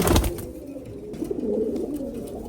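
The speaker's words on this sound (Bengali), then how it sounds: "এই দুইটা পেয়ার করলাম দুইটাই কালো গলা কবুতর" Black-necked pigeons coo softly in low, rolling murmurs, close by, after a brief loud rustle at the start.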